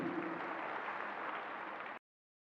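At an annual Akurinu prayer service, the congregation claps in a faint, distant wash for about two seconds before it cuts off into silence, followed by a brief sharp noise at the end.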